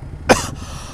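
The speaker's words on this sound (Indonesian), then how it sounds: "gua batuk-batuk ini" A single short, sharp cough from one person, close and fairly loud, standing alone against quiet background hiss.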